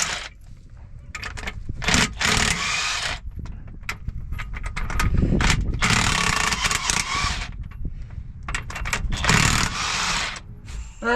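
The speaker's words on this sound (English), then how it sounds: "now ready to take the cab support or bolts out" Ratchet wrench working the cab support bolts loose on a truck, a run of rapid mechanical clicks and clunks in bursts with pauses, close and fairly loud against a busy shop background.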